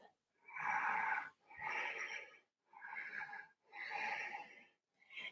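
Slow, deep breathing during a vinyasa yoga flow: four long, steady breaths close to the microphone, each a soft, airy rush with brief pauses between them and no talking.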